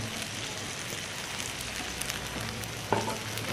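Prawns sizzling in olive oil in a pan heated to about 180 degrees, giving a steady, close hiss of frying with a brief sharper crackle near the end and no talking.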